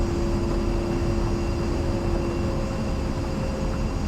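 Steady loud engine drone of an A-10 jet on approach to land in a flight simulator game, a constant dense roar with a faint tonal whine and no talking.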